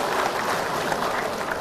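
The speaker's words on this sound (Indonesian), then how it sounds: "kenapa lo orang ini ragu-ragu tepuk tangan begitu?" Hesitant applause from a religious lecture audience, a steady wash of scattered clapping that holds at an even level without swelling or a clear ending.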